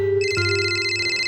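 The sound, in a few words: telephone ringing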